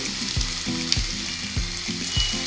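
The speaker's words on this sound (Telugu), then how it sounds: "రొయ్యలు వేగాక కల్లుప్పు" Prawns sizzle in a hot pan for a prawn curry, a dense, continuous crackle with a few rhythmic knocks of stirring, close and loud with no talk.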